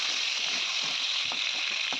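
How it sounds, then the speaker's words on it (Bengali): Potatoes lightly frying in oil in a Bengali fish-curry preparation, a soft, steady bright sizzle with a few faint clinks, quiet and close. "তারপর আলুগুলো হালকা করে ভেজে নেব"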